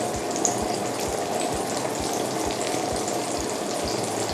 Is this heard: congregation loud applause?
no